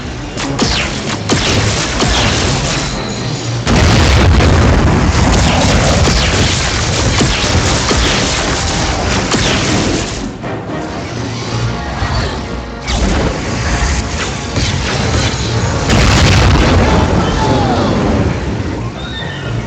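Explosions from a diving bombing run in the video game Marvel Heroes, loud crashing booms that keep landing in bursts over a dense, continuous game soundscape.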